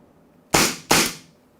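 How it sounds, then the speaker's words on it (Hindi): A Beretta M92A1 BB air pistol fires two quick back-to-back shots, each a loud, sharp crack with a short decaying tail, close up and with no talking. "तो चलिए मैं 2 कंटिन्यूस फायरिंग करता हूँ।"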